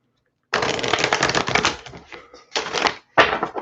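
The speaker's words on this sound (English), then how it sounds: "And let me pull you an oracle card as well." Oracle cards being shuffled and pulled, crisp papery riffles and snapping flicks in three short bursts separated by brief silences, close and fairly loud with no talking.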